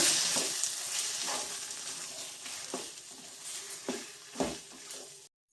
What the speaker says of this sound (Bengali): ভালো করে আমি চিনিটাও মিশিয়ে নেব।